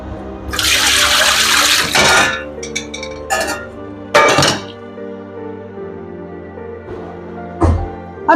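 Water tossed out of a kitchen container full of settled soil and sediment, a sustained splashing gush for about a second and a half, followed by a few scattered thunks and clinks from vessels being set down.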